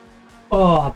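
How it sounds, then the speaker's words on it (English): A car parked next door makes a loud racket, bursting in abruptly halfway through with a strong, steady harmonic roar that holds for the rest of the moment after quieter background. "I bet that's the car that's parked next door that I can hear."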